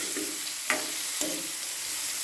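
Finely chopped carrots, beans and onion fry in oil with a steady close hiss, broken by two quick scraping stirs of a spatula.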